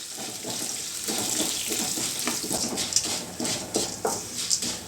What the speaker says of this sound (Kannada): ಸಾಸಿವೆ ಎಲ್ಲ ಸಾಸಿವೆ ಜೀರಿಗೆ ಎಲ್ಲನೂ ಚಟ್ಪಟ ಅಂತ ಹೇಳ್ತಾ ಇದೆ